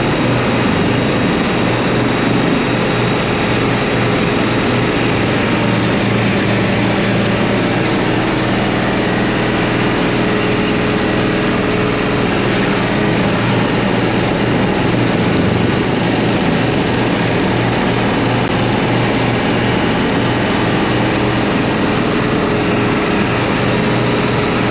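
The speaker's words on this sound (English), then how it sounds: "I'm gonna mow just a little bit" Lawn mower running steadily while mowing a farm lawn, a loud continuous engine drone with an unbroken hum throughout, nearby and alone without speech.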